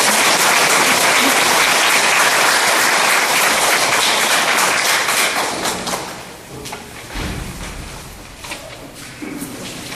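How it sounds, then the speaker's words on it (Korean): A large crowd at an extraordinary general meeting of Wangsimni New Town District 2 redevelopment association members applauds loudly and densely as the acting chairman arrives, the clapping tapering off into thumps and scattered noise. "다시 한번 박수로 맞이해 주시기 바랍니다."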